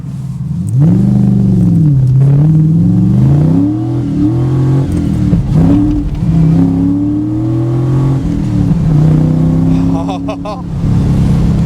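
A 1992 TVR V8S sports car with a V8 accelerates hard through the gears, its loud, close engine note rising and dropping at each shift over about eleven seconds, with someone talking over it.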